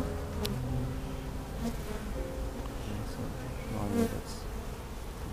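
Bees buzz inside an attic, a dense, close droning swarm with individual insects flying past the microphone over a continuous hum.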